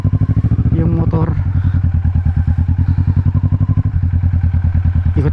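A Kawasaki Vulcan S cruiser motorcycle rides along with a loud, close, steady engine pulse and rhythmic thumping, while someone talks over it near the start.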